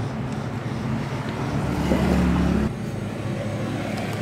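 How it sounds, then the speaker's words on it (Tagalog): A Kawasaki Rouser 135 motorcycle engine runs at idle during a repair test after spark plug cleaning, a steady close rumble that revs up briefly in the middle before settling back. "Try muna natin dito kung maayos yung ano, yung takbo na motor na to."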